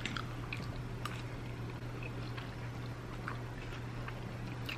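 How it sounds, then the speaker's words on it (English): Soft, quiet chewing of a mouthful of cauliflower rice from a sushi bowl, small moist squishes and bites close to the mic over a low steady hum. "Let's taste the cauliflower rice."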